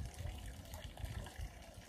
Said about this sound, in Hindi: ये आ रहा पानी